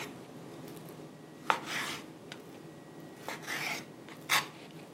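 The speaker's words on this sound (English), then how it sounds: "I'm gonna cut these into 3/4 inch cubes." A knife chops pork into small cubes for a white bean chili on a board, giving a few separate quiet cuts and scrapes spread over a low background hum.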